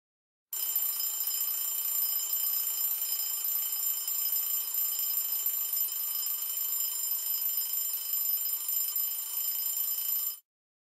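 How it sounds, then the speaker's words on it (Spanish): An alarm clock rings continuously and loudly for about ten seconds, a steady high metallic bell tone that starts and stops abruptly, with no voices. "¿El despertador ha vuelto a funcionar?"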